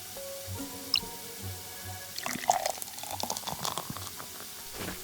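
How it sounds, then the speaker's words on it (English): Vinegar is poured into an empty bottle, a gurgling, splashy stream that starts about halfway through after a quiet stretch with faint background tones. "Let's start by filling it with vinegar."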